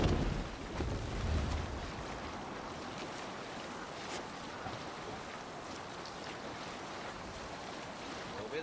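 A Viking sailing ship moving across the sea in Assassin's Creed Valhalla, with a broad hiss of waves and wind washing steadily past and a heavier rush of water near the start, then an even, continuous wash.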